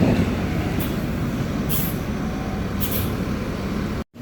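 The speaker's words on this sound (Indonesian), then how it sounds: "Bus yang akan membawaku ke Surabaya sudah mulai keluar dari garasi dan menuju di tempat keberangkatan." A Denpasar–Surabaya intercity coach run by M-Trans pulls out of its garage with a loud, steady engine rumble and road noise, a few faint hisses on top, and a sudden brief dropout near the end.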